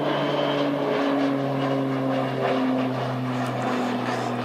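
A Life Flight aircraft arriving from Dunedin at Christchurch Airport produces a steady, moderately distant engine drone with sustained tonal hum and gradually shifting pitch, heard alone without talk.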